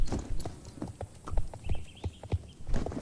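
Horse hooves clip-clop in Star Stable Online, an irregular run of hollow clops at moderate distance with a brief faint whinny-like tone midway.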